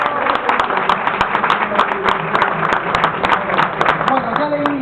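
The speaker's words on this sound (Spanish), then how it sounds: "Fuerte aplauso para César." Applause from an audience at a book fair, as a speaker named César is welcomed: a dense, steady wash of many hands clapping, with crowd voices mixed underneath throughout.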